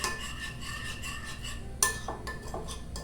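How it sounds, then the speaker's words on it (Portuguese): Metal spoon stirring wheat flour into a thick dough in a bowl, a steady scraping and rubbing with light clinks against the bowl, close and fairly quiet, no talk. "e mexendo sempre com a colher até chegar ao ponto que você não vai mais conseguir mexer com a colher"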